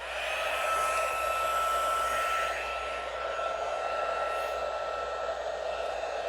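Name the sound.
heat tool (embossing heat gun) blowing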